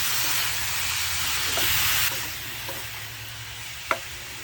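Squid sautéing in a pan with onion, ginger and garlic for a squid curry, a loud steady sizzle and hiss with soft stirring scrapes and a sharp clink near the end.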